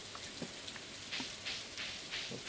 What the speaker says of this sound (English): Alright, it is raining.